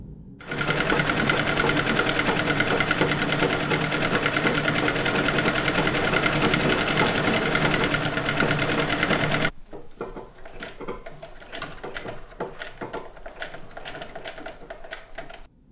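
A sewing machine runs steadily for about nine seconds, top-stitching a seam on a detachable shirt collar, then stops and leaves quieter handling clatter.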